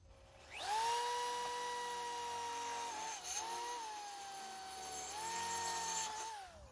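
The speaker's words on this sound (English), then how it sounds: "Drilling the holes in the conduit, I have a 1/4 inch titanium drill bit" A drill with a 1/4 inch titanium bit bores through metal conduit held in a vise, whining up to speed, dipping briefly as the bit bites, then winding up again before spinning down, close and clear.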